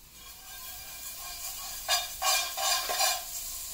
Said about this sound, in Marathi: आपला पॅन खूप गरम असल्यामुळे मस्त बटर जल रहा है.